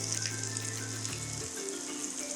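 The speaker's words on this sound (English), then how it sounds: "with our hot pan, I add my chopped onion and my coriander, just ground coriander" Chopped onion and ground coriander frying in a hot pan give a steady, close sizzle with a brief low hum that cuts out partway through.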